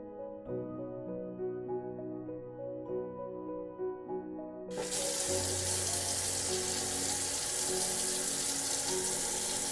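Warm water gushes steadily from a tap in Chiang Mai as a dense, continuous hiss after a few seconds of soft tonal sound, sounding close and fairly loud.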